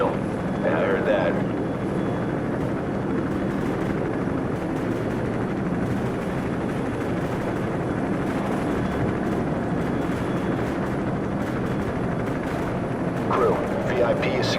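Helicopters in the Call of Duty Modern Warfare campaign produce a steady, loud rotor drone that fills the whole stretch, with occasional bursts like distant gunfire and voices talking over it.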